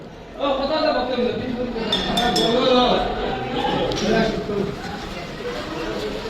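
Dishes and cutlery clink in a temple festival kitchen, bright scattered chinks of metal and glass close by, mixed with steady chatter from people talking nearby.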